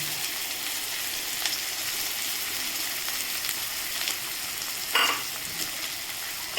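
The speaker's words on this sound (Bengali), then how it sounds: "এবারে এটা একটু হালকা ভেজে নেব" Chopped onion frying gently in a pan after a tempering of spices, a steady soft sizzle with a brief stir or scrape near the end, alone without talk.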